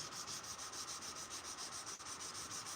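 Steady hand sanding on a knife blade, a continuous close rubbing hiss with a regular back-and-forth rhythm of strokes and no talking.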